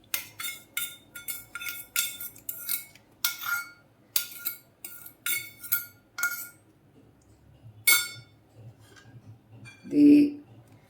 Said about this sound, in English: Then we'll mix all the wet ingredients into the dry ingredients.